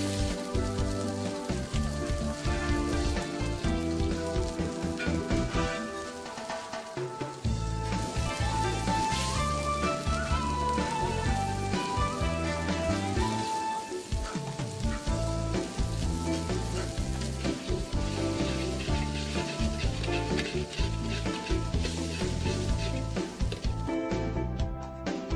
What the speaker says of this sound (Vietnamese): Đợi dầu sôi, ta bỏ tỏi vào khử cho thơm. Sau đó ta cho vào một lượng nước mắm và đường vừa đủ nấu sôi lên.